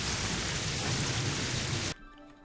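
Steady, dense rain hisses loudly in the video game Terraria, then cuts off abruptly, leaving near silence with a faint low tone.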